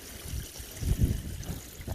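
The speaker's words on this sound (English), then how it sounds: "I'm going to put in lots and lots of water" A Japanese maple in a big tub is watered with lots of water, a soft close trickle and gurgle that swells briefly, with no talking.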